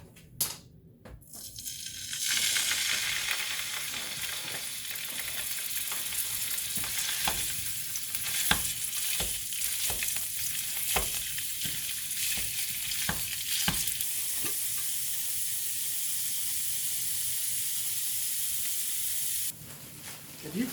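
Food fries in a pan while a cheap, burnt spatula stirs and scrapes it, giving a steady sizzle with repeated clicking scrapes that stops near the end.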